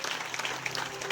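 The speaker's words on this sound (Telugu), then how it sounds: "మనమందరూ కూడా ఆ బిడ్డలకి చప్పట్లతో శుభాకాంక్షలు," A crowd gathered to honor children receiving their first holy communion claps steadily, a dense, even patter of many hands filling a short moment without pause.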